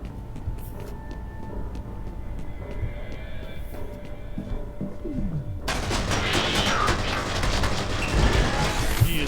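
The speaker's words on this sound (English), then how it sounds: "I'm going to blow up the replica soldier with just the submachine gun here" Gunfire from the video game F.E.A.R. as a player takes on a replica soldier with a submachine gun: loud, dense bursts of shots with booming blasts that build into a continuous roar in the second half.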